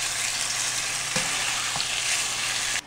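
Pre-seasoned chicken sizzles and spits steadily in a hot pan, a continuous frying hiss with a couple of brief clatters as the meat settles, close and fairly loud with no talking.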